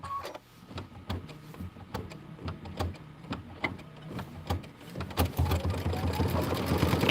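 Sewing machine stitching to tack down quilt block fabric for a Kimberbell Sweetheart Street block, a close, rapid rhythmic clatter of needle strokes that grows louder and busier toward the end.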